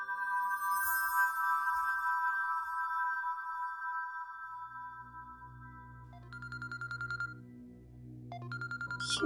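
Electronic phone ringtone from a drama scene, a steady melodic tone that later breaks into repeated chirping bursts over a low background hum, with no talking.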